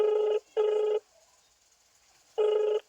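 A telephone rings in three short electronic bursts, two close together and then a pause before the third, clear and fairly near.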